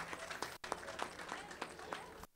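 Quiet, rhythmic clapping from a small audience, steady claps repeating at an even pace for a couple of seconds.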